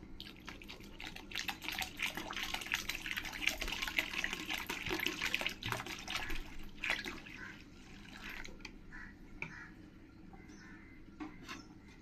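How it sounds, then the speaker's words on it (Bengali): Water poured into a pot of dal on the stove, a steady broadband rush and trickle lasting several seconds before easing into fainter splashes and drips. "এবার আমি জল দিয়ে দেব।"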